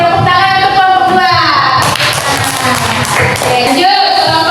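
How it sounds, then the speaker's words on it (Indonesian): Classroom applause for a student group, a burst of clapping from the class running about two seconds amid children's voices. "Oke, tepuk tangan untuk kelompok 2"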